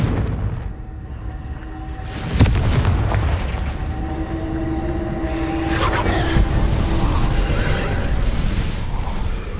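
Bombarda and Confringo explosive spells in Hogwarts Legacy make a dense, continuous rumble of booms and blasts, with a sharp impact a couple of seconds in and a layered roar of combat behind it.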